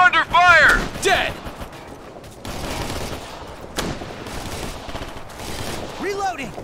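Sustained gunfire from a squad firefight in the military shooter Operation Flashpoint: Red River, with dense overlapping bursts and distant shots running throughout, loud near the start and steadier afterward, under occasional radio-style voice callouts.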